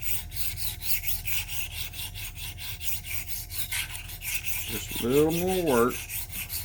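A double edge broadhead is worked against a sharpening surface in steady rhythmic rubbing strokes, close and rasping; someone speaks briefly near the end.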